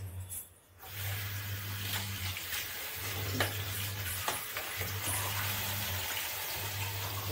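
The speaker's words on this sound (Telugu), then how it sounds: "అదే ప్యాన్ హీట్ ఎక్కినాక మనం ఇప్పుడు కొన్ని వాటర్ పోసి చూద్దాం" Water hits a heated pan while making pancakes, giving a hissing sizzle that carries on steadily with faint scraping and clicks over a low background hum.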